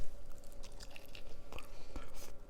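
Close, crisp crunching and chewing as crispy-skinned chicken wings are bitten into, a few sharper crunches standing out against a steady background hum.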